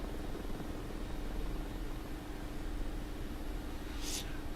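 A Mi-24 helicopter in the DCS combat flight simulator gives a steady, muffled, droning rotor and engine hum at constant low volume, with a brief hiss near the end.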